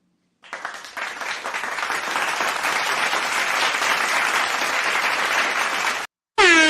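Applause sound effect of hand claps, a dense continuous wash of clapping swelling in and holding loudly for several seconds before cutting off abruptly, followed by a brief rising tonal sound.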